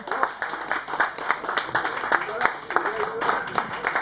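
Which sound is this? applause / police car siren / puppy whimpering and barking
applause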